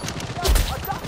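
Burst of gunfire in the first-person shooter Blood Strike, a loud cluster of shots peaking midway through a busy, dense game soundscape.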